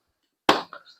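A single sharp chop of a manual food chopper cutting onion lands after a moment of silence, followed by a couple of quick, softer rattles.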